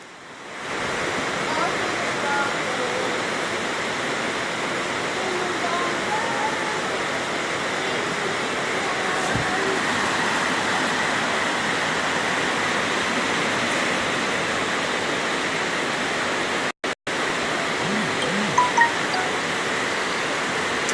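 Floodwater pours through a flooded housing scheme in St Catherine, Jamaica, a steady broadband rush that stays loud and constant throughout, with a brief dropout near the end.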